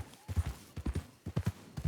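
Horse hooves clip-clopping in a video game, a steady close walking rhythm of soft thuds that carries on for the whole stretch, with someone talking over it.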